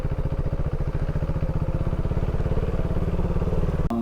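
A motorcycle engine idling close by at a campground, a steady loud thumping rumble with a fast even pulse that holds throughout, cut by a brief click near the end.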